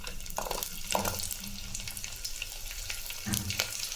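Small onions fry in hot oil with popped mustard seeds, giving a constant close sizzle broken by bursts of scraping and stirring, moderately quiet with no speech.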